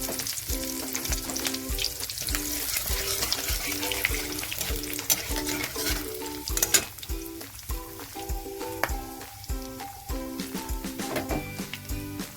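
Garlic and black cumin frying in hot oil for a Bengali fish curry, a loud, close crackling sizzle with stirring clatter, while steady tonal music plays underneath throughout.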